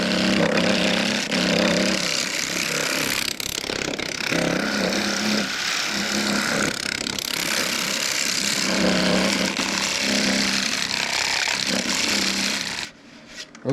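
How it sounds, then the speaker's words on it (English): A negative rake scraper works broad leaf maple turning on a lathe, a loud continuous rasping scrape that rises and falls in repeated passes over the spinning wood, close up with the lathe whirring underneath, ending in a brief near-silence. "We'll take that down with the negative rake scraper."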